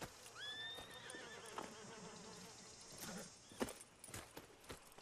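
A horse in the video game Red Dead Redemption 2 whinnies loudly near the start, followed by scattered hoof clops and a faint insect-like buzz in the background.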